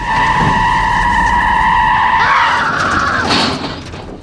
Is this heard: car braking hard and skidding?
yes